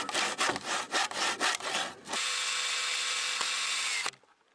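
Wooden end pieces, three feet long, are cut for a rabbit cage: a run of uneven rasping strokes gives way to a steady, whining saw cut lasting about two seconds, then stops sharply.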